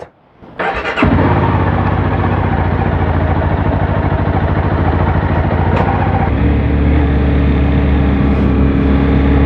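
A Honda CBR motorcycle engine fires up after a short crank and settles into a loud, steady running drone close by, with its pitch and tone shifting partway through.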